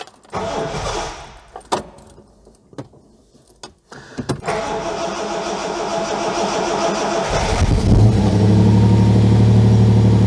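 A 1971-era Ford Capri MK1 that sat unused for eight years, run on choke: keys jangle and clicks sound, then the engine cranks, catches and settles into a loud, steady, rising idle close by.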